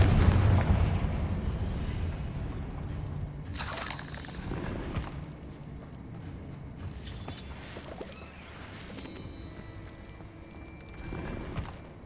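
Repeated Confringo fire spell blasts from Hogwarts Legacy, heavy booming bursts over a busy game soundscape with no one talking.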